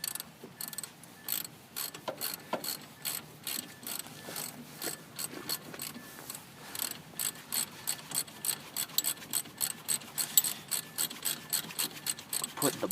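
A ratchet wrench clicks rapidly in repeated bursts while turning strut mount bolts on a Mazda Protege, close and crisp, with brief pauses between strokes and faint metallic handling noises.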